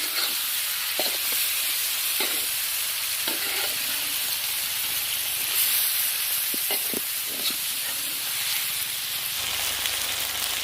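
Pieces of food deep fry in hot oil with a dense, continuous crackling sizzle, near and fairly loud, with faint pops and bubbling throughout and no voices.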